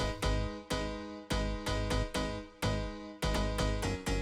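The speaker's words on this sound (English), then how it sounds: "the bass line is a slap house bass line" In a tech house track, a punchy slap house bass line thumps in repeated rhythmic hits under stabbed piano chords, dense and close with choppy retriggered notes.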